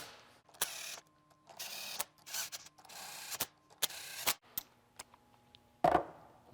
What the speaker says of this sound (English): We'll snug them up with a ratchet.